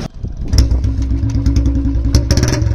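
Old Royal Enfield-style Classic 350 motorcycle fitted with an L-bend exhaust pipe, starting up and then revving loud and close, with a rapid, throbbing thump that swells and falls across several revs.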